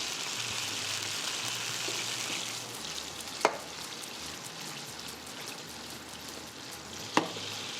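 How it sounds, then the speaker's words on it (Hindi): Onions frying in a pan alongside paneer, a soft, steady crackling sizzle throughout, with two brief sharp clicks of a utensil against the pan. "ये फ्राई हो रहा है, प्याज भी फ्राई हो रही है।"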